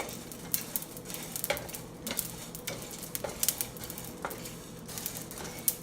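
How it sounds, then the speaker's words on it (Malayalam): Cumin seeds crackle and pop while dry-roasting in a pan for biriyani masala, with sharp, irregular clicks scattered over a soft, continuous sizzle and no voices. "അപ്പോൾ തന്നെ ജീരകമൊക്കെ പൊട്ടാൻ തുടങ്ങിയിട്ടുണ്ട്."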